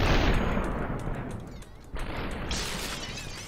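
Gunfire in the video game SUPERHOT, with a burst of sharp, loud shots at the start, a few scattered cracks, then a bright shattering crash near the end, all close and with no talk.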